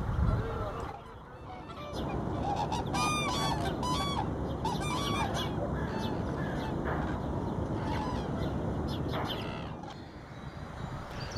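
Migrating birds by the island channels at Luxor: geese honk repeatedly in scattered bursts over a steady, dense background of bird chatter and ambient noise, moderately close.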